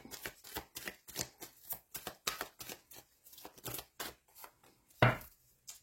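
Tarot cards are shuffled by hand in a steady run of crisp riffling bursts, close and clear with no talking, and the run ends in one louder slap as a card is drawn.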